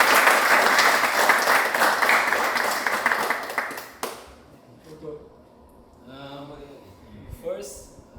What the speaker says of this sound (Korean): 또 박수 한번 쳐주자